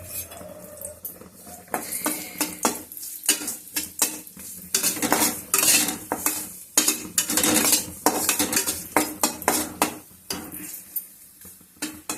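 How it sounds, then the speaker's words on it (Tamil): Tamarind roasting in sesame oil for a moringa leaf powder, with a spoon repeatedly scraping and clinking against the pan over a light sizzle in an irregular, busy rhythm close up. "இதில் கொஞ்சம் நல்லெண்ணெய் விட்டு நம்ம எடுத்து வச்சுருக்க புளியை நல்லா வறுத்து எடுத்துக்கலாம்"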